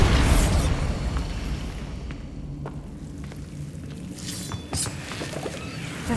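A Bombarda spell explosion in the Hogwarts Legacy video game bursts loudly at the start, then settles into a low rumbling tail under game ambience, with a few faint pops afterward.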